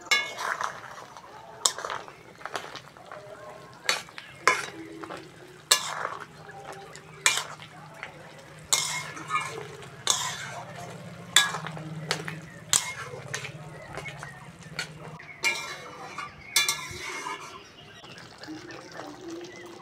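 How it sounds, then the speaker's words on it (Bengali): Makhana (fox nuts) go into a pot of boiling Bengali-style gravy and get stirred, with repeated sharp clinks and scrapes of a spoon against the pot over a low bubbling simmer, close by. "ঝোল ফুটে গেছে বন্ধুরা, মাখানাটা এবার দিয়ে দেবো।"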